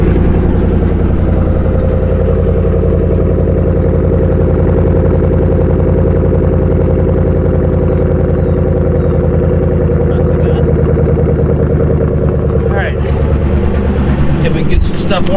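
A truck engine idles steadily on a freezing frosty morning while warming up, a loud, constant low rumble with a faint clatter and no change in pace.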